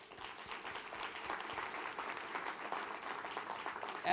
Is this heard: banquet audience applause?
yes